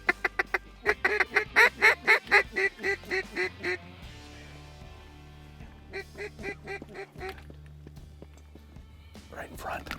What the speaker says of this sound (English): Birds are all over us this morning.